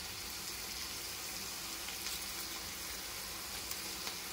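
Rebollón mushrooms frying gently over low heat in a pan, a soft continuous sizzle with scattered small pops, close and fairly quiet, no talk.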